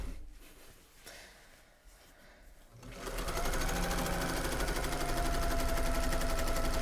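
A serger overlocker finishes the edges of knitted cake cozies, its motor starting after a few seconds of quiet handling and then running in a loud, steady, rapid stitching whir until the end.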